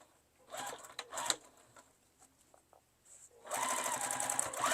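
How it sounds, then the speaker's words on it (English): A sewing machine stitching a half-inch seam around a fabric tote bag runs in short bursts, then in a longer, steady, close whirring run near the end. "I'm just going to sew all the way around this bag at a 1/2 inch seam allowance"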